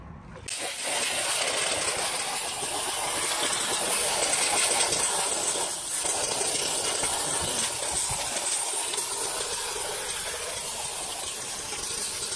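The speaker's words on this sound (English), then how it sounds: "He's going to run some soapy water through the steam cleaner" A steam cleaner sprays soapy water on a car gearbox, a loud, continuous hiss spraying steadily for several seconds, close and unbroken, with a brief pause before it starts.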